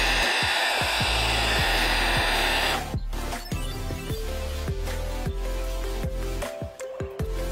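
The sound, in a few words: hair dryer heating badge glue on MINI F56 JCW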